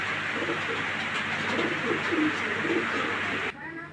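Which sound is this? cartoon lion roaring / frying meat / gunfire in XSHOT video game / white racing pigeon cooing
white racing pigeon cooing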